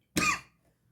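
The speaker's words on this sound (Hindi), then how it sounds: "थोड़ा प्रॉब्लम आ रही है खांसी की" A single short cough from a man teaching an exam-prep class, close and fairly loud, with a quick fade and nothing else around it.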